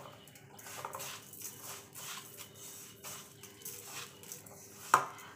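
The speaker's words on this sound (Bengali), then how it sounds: "এবার আমি চালের মধ্যে খানিকটা ঘি মিশিয়ে দেব" Ghee being worked into raw rice in a pot for payesh makes soft rhythmic scraping and stirring strokes, ending with a single sharp clink of a utensil against the metal.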